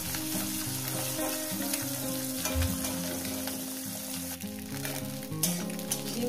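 Small pieces of egg fry in a pan with a steady, close sizzle that holds evenly over a tonal background of music, with no talking.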